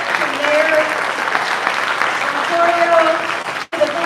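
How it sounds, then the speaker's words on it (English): Audience applause at an AAPI Heritage Month celebration hosted by Menendez, a steady dense clapping from a crowd that carries on throughout with a brief dip near the end. "I want another round of applause for all our honorees"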